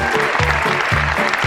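Studio audience applauding a correct answer on a Bengali quiz game show, steady dense clapping throughout with no talk.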